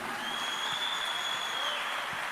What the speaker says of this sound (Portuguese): Aplaude bem forte ao Senhor Jesus aí.